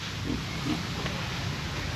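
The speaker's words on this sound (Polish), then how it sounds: "chodźcie tutaj, zobaczcie, prosiaczki." A couple of soft, short piglet grunts sit under a steady background hiss, faint and close together.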